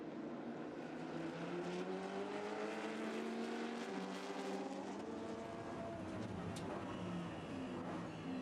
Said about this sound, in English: And Niels Bauhaus accelerating out, taking 4th place, overtaking the Porsche of Noel Kohler.